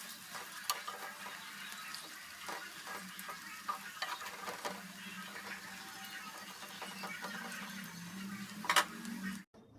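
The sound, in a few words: pakoras frying in oil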